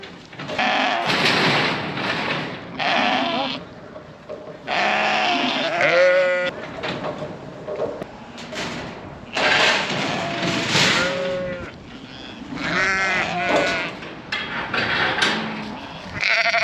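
Sheep bleat loudly and repeatedly at close range during hand wrestling of fat lambs, several wavering calls overlapping in bursts with brief gaps between them.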